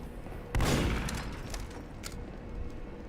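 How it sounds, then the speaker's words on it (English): A gunshot bursts loudly in the TF2 Murder Mod game for Team Fortress 2, one heavy blast that decays into fainter crackling shots and background game noise. "Oh, I hear a gunshot."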